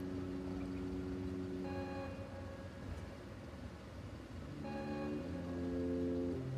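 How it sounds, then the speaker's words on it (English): A steady tonal klaxon-like ding sounds twice, a few seconds apart, over a constant low engine-like hum, in the video game The Outer Worlds. No voices. "Do you hear this noise? This like klaxon?"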